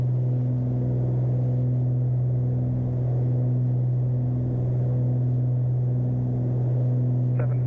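Steady, loud drone of a Beechcraft Baron's twin piston engines in climb at reduced power, a constant low hum with a faint harmonic layer throughout, no voices.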